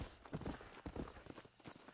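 Quick rhythmic hoofbeats of a horse in the game Red Dead Redemption, a brief close gallop of several thuds under a soft ambient bed.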